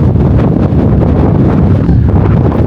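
Strong, cold wind by a lake at Waterton townsite buffets the microphone in a continuous loud roar, with no other sounds clearly standing out.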